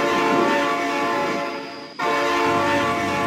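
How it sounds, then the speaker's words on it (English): A loud, sustained train horn sounds from an approaching train in the BeamNG driving simulator. The rich, steady horn tone holds for about two seconds, breaks off in a brief dip, then resumes at full strength. "Oh my God, train!"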